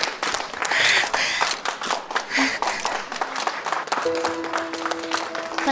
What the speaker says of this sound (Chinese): 让我们再次给她些热烈的掌声